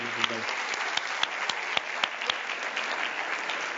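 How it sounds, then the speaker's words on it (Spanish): Audience applause fills a conference hall after a talk at the Urban Commerce 2025 event, a steady dense wash of many hands with sharp individual claps popping through; a brief voice is heard at the very start. "Un fuerte aplauso para él."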